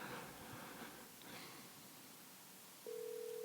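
A telephone call being dialed: a noisy, hissing line settles into a steady, continuous electronic tone near the end, alone with no talk.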